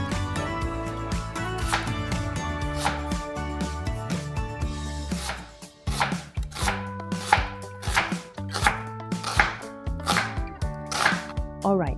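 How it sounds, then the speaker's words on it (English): Carrots sliced on a mandolin slicer and an onion cut with a knife for Korean japchae, heard as crisp, steady rhythmic chopping strokes, close and distinct, over soft background music. "stick a fork to carrot and slice it with mandolin slicer, and I will slice onion with knife"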